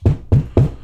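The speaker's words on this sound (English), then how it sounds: "I get people knocking on my..." Four firm knocks on a door, evenly spaced and close, each a dull thud with a short decay.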